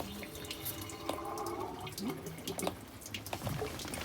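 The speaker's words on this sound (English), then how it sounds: "we're going to force the water into the radiator" Gurgling, splashing water forced through the engine block into the radiator of a 1965 Chevy Sportvan, with irregular bubbling bursts and drips, fairly close and without speech.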